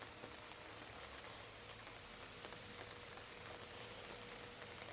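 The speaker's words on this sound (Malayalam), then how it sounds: "മഴ തുടരുകയാണ്" Rain falls steadily in Kottayam, Kerala during the monsoon, a faint, even hiss of drops on surfaces that continues unbroken with no voices.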